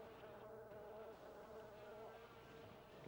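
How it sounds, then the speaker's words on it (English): Robotic mosquitoes in the video game Daikatana, a steady, close insect-like buzzing drone with a wavering pitch that holds through the whole stretch. "Get these robotic mosquitoes out of my face."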